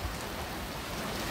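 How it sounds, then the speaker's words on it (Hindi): Heavy, steady rain pouring during a storm in Canada, a dense continuous hiss filling the scene with no voices. "कनाडा में हो रही है बहुत तेज़ शदीद बारिश"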